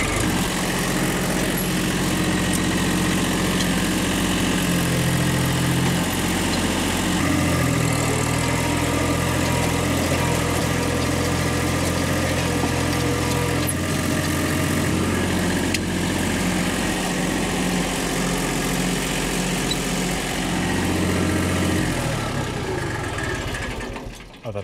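A tractor engine runs steadily while spreading a row for spring planting, a loud, continuous low drone with shifting mechanical tones and no voices, close throughout.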